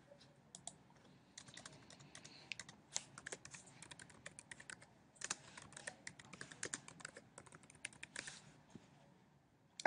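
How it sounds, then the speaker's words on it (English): Rapid, uneven clatter of computer keyboard keys being typed, close and fairly quiet, with short bursts and pauses throughout and no talking. "Let's type in the whole thing."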